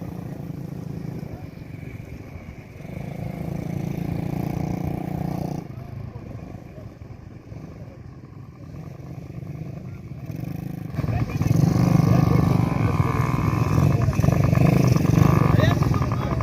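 Peugeot Piwi 50cc moped with no gears, its small engine droning and rising in pitch as the throttle is opened, loud and close and steady rather than surging.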